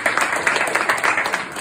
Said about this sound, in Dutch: Maar ik vraag een applaus voor Albert en